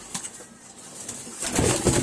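Pigeon cooing in a loft, a few soft low coos up close, followed by a louder rustle like shifting feathers or wings.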